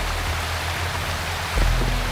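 A waterfall in the video game Wuthering Waves makes a steady broadband rush, loud and close, with a slight low thump near the end and no voices.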